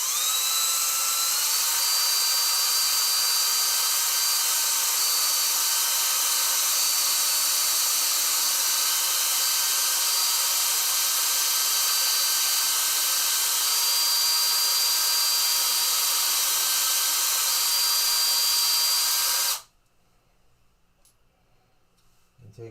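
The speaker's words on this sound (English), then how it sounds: "Okay, chuck it in your drill." A power drill spins a polishing pad with grape-scented metal polish over motorcycle metal in a shop, a steady loud high whine running unbroken for about twenty seconds before cutting off to near silence.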